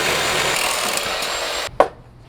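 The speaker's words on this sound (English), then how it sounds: "Sam has his Sawzall." A Sawzall reciprocating saw rasps steadily through a metal tube for welding a custom bash bar, a dense continuous grind that cuts off abruptly, followed by a single sharp metallic clink.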